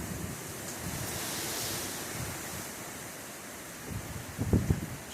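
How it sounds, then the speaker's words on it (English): Steady roaring wind during Hurricane Zeta in the evening, a broad rushing noise that holds for several seconds, then buffets with louder low thumps near the end. "there's a gust of wind coming"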